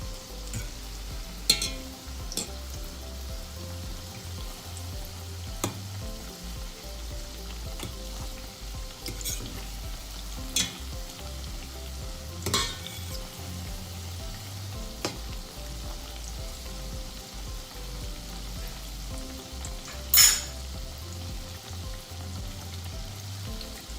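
Twisted koeksister dough frying in hot oil, a steady close sizzle running throughout with scattered pops and a few soft knocks as the pieces are turned over.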